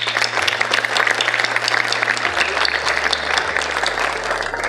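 Audience applause at an Independence Day celebration on a university campus, steady loud clapping from a crowd throughout, over a low electrical hum from the hall's sound system.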